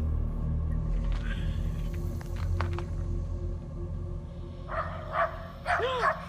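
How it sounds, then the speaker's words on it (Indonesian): In a forest at night, a dog barks and yips a few times over a steady low rumble, near but partly masked by the background noise. "anjing mereka pun sadar dan menggonggong ke arah sosok itu, seperti merasa terancam."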